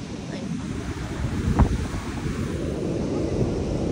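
Gusty seaside wind rumbles against the microphone, with the wash of waves blended into a constant low roar.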